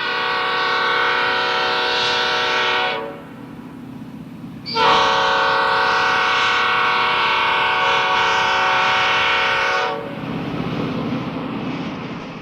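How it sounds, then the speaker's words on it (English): A Phase 1 Amtrak F40 locomotive, unit 90229, sounds its harsh, poorly tuned P-5A air horn in two long, loud blasts close by, with a brief gap of rumbling engine noise between them and after. "as a Phase 1 F-40, it had a P-5A air horn. A very bad P-5A air horn."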